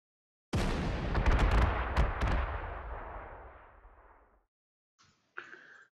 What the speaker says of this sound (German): Das erste, was wir hier mal machen, ist mal mit der Flak auf das Ding schießen.